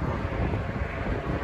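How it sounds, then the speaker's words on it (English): A small propeller plane drones overhead as a steady, broadband engine hum mixed with wind noise, constant and moderately loud with no talk over it. "You got a little tutu plane up there somewhere."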